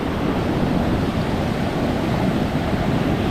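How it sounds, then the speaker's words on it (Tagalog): Ocean surf rushes continuously at sea during a risky outing by boat, a broad steady roar of breaking waves mixed with wind buffeting the microphone. "Hoy, alon, aba."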